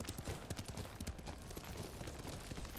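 Horse hooves clip-clop in steady rapid rhythm in the Ghost of Tsushima video game, fairly quiet and continuous with no talking.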